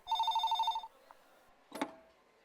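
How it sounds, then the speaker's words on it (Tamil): An old-style telephone bell rings alone in a quiet room, a steady rapid trill for nearly a second, followed by softer handling noise and a brief clatter as the receiver is picked up. "ஃபோன் அடிக்குது பாருங்க."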